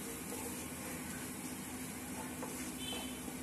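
A quarter spoon of chili powder is stirred into a frying pan for soya cutlets, giving a faint, steady sizzle and hiss with no voices.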